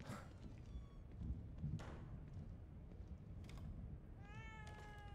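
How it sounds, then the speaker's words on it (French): A small cat meows in the horror game The Evil Within 2, a few faint, drawn-out cries rising above low ambient game noise, with soft footstep-like sounds between them. "C'est le petit chat qui braille."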